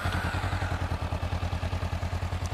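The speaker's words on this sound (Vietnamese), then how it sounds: "Có lẽ bây giờ tôi sẽ thử luôn cái tiếng ống xả để cho các bạn chúng ta cùng nhau" A Honda CB500F 500 cc naked motorcycle's exhaust thrums close by in a steady, rhythmic low pulse, the engine held at a constant speed without clear revving.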